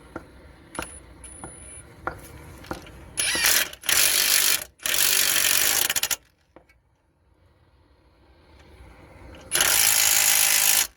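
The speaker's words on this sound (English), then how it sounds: "we're going to secure the lower ball joint bolts" A ratchet tightens the lower ball joint bolts on a Mitsubishi Outlander during a lower suspension control arm change, clicking in several loud close bursts separated by short quiet pauses.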